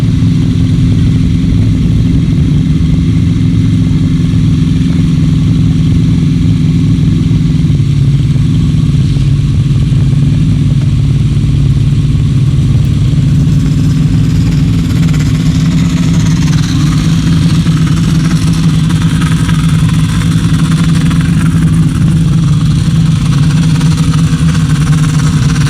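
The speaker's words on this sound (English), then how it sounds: "Sidecars coming to the line then to do battle." Grasstrack racing sidecar engines idle and blip at the start line, a steady loud low rumble that swells slightly in revs toward the end with no break.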